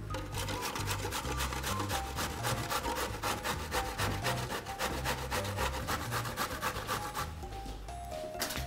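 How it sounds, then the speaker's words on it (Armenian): Zucchini grated by hand on a grater while held by its stem, a steady run of rapid rasping strokes close up with no talking. "և բռնելով պտղակոթից քերում ենք"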